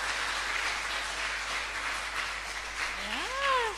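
An audience applauds with a soft, steady patter of clapping that holds evenly, then a brief rising tonal sound near the end.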